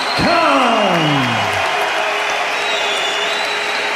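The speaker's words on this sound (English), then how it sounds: "the crowd give Amir Khan his due acclaim" A boxing crowd applauding Amir Khan's points win over Baz Carey in Bolton, loud sustained clapping and cheering with a sliding whistle-like tone at the start.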